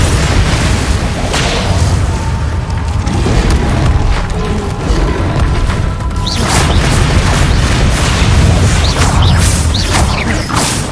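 Spell blasts from Bombarda and Confringo in Hogwarts Legacy, loud booming impacts and whooshing crackles layered over dense rumbling combat noise, continuous and close.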